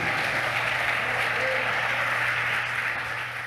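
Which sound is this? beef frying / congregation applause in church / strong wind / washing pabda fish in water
congregation applause in church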